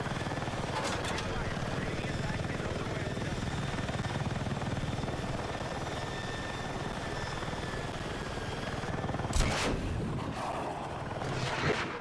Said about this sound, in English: being an attack helicopter right now,